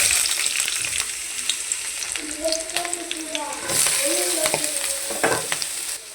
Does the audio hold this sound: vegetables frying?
yes